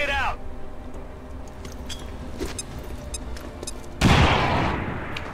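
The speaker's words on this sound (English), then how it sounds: "Grenade out." A grenade detonates in the XCOM 2 video game, a sudden loud blast midway through a stretch of low game ambience and scattered effect sounds, with a bright rush of debris noise trailing off.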